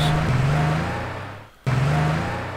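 A cheat-spawned sports car engine drones steadily in Age of Empires II, a buzzing motor with a wavering pitch, cutting out briefly before resuming at the same level, with no voices.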